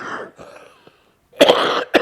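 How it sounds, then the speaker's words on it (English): A man coughs in a few rough, throaty bursts, a weaker cluster at first and then two louder, harsh coughs close to the microphone, with short silent gaps between. "I've got a cough."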